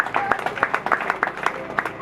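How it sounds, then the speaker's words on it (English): Church congregation at a wake keep clapping their hands together in a steady rhythmic beat, loud and close, with voices mixed in underneath. "Can we clap our hands?"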